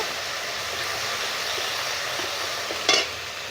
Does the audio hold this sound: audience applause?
no